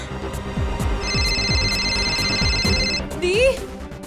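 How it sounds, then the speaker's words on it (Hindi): A telephone rings with a steady electronic tone lasting about two seconds, sitting over a rhythmic, pulsing dramatic music bed, followed by a brief rising whoosh effect. "आरव जी का फोन"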